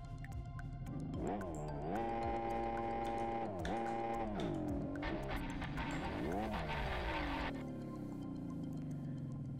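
Motorbike engine in the Live For Speed racing game revving loudly and continuously, pitch sweeping up and down through gear changes, with brief tyre squeals.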